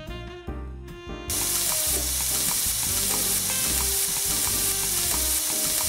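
Onion fries in olive oil in a medium pan, a loud, dense sizzle that bursts in after a brief quieter moment and holds steady, with faint clinks of stirring underneath.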